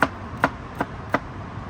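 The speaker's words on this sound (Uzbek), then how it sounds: "savzini ko'p ham anaqa mayin qilib yormaymiz" Knife chopping carrots for Uzbek pilaf: four evenly spaced, crisp cuts about 0.35 seconds apart, close and clear with no talk.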